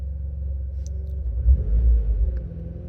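A Mitsubishi Evo X with an SST gearbox idling while the car runs a clutch ventilation routine, a low steady rumble that swells briefly in the middle before settling back.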